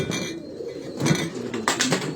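A Kashni breed pigeon coos on a Lahore rooftop, a few short close calls with a light clink in the background.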